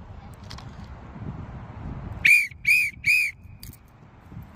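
Three short, sharp blasts of a coach's whistle at children's football training, loud and close in quick succession, with faint background voices before them.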